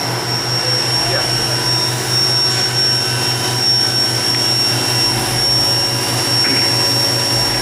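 A Haas VF-5 vertical CNC machining center with a 40-taper spindle runs at 7,500 RPM, giving a steady, continuous high whine over a constant mechanical drone.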